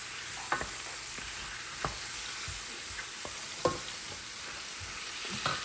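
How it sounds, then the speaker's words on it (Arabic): Meat fries in a pan for a traditional Moroccan dish from Rabat, crisping and browning on top. A continuous loud sizzle carries on throughout, punctuated by occasional knocks and scrapes of stirring, with no voices. "اوكي غنقليوها مزيان ونعاود نرجع لكم"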